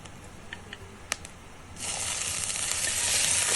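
Small onions dropped into hot oil with spices for a mutton kuzhambu curry, a few light clicks and taps at first, then a sudden loud, steady sizzle that builds and holds close by, with no talking.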